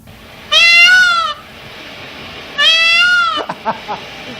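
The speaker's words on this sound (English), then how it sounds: "Then the peacock." Peacock calls ring out twice, each a loud, piercing, rising wail lasting under a second, separated by a pause, with a few short knocks after the second call; no talk.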